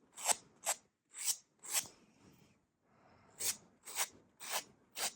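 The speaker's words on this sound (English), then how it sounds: "So I'm going to use a little buffer block now." A small buffer block rubbed across fingernails during a manicure, a series of quiet close rasping strokes, about nine short swipes in two groups separated by a brief pause.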